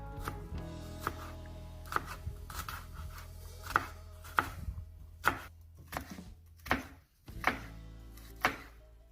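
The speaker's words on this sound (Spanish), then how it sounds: "Ahora voy a picar medio pimiento. Picamos bien chiquito también." A knife finely chopping half a pepper on a cutting board, giving a dozen or so crisp, close chops at an uneven, unhurried pace with short pauses between them.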